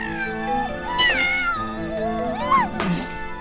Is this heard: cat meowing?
yes